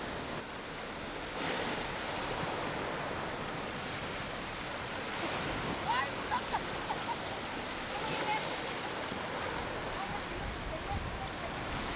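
Rough sea waves at Guryongpo harbor in Pohang, a continuous roaring wash of surf with gusty wind noise, loud and close, with faint voices and no break in the sound.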